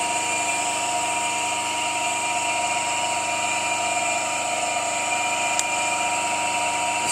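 A Soviet asynchronous electric motor running on 380 volts gives off a steady, loud whine with several sustained tones, holding an even hum throughout, with one brief click near the end and no talking.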